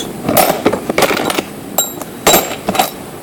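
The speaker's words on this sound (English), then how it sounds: "Nuts and bolts together." Metal nuts and bolts clink together in a workshop, close and fairly loud, in a handful of short, bright, irregular rattling taps.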